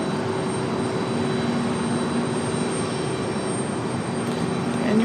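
A steady, loud roar of an Aer Lingus airliner's engines at Raleigh-Durham airport fills the air continuously as the jet makes its turn, a broad even rumble with a faint tonal whine and no voices.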